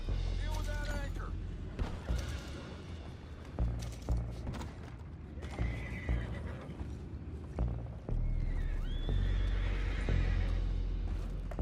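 Horses neighing and whinnying with clip-clopping hooves and some creaking mechanisms in Red Dead Redemption 2, calls rising at intervals over steady game ambience.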